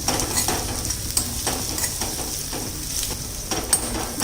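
Onion and turmeric sauté in a pan for Kolhapuri misal, a steady close sizzle and fry broken by repeated stirring scrapes, with no talk.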